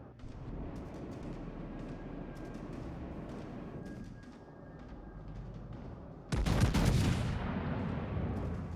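Naval gunfire from the Tier VII Amagi battleship in World of Warships: Legends, a low rumbling background of distant shots followed by one loud, heavy salvo boom that rolls out and fades.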